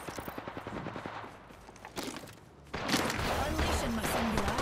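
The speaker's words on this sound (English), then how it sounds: "I'm getting shot at." In Apex Legends, rapid automatic gunfire rattles in a quick burst of shots, falls quiet, then heavy sustained firing and combat noise return loud, mixed with in-game voices.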